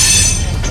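Train cars rush past close by, a loud continuous roar of rolling wheels and rail noise with a bright metallic hiss filling the moment, no voices over it.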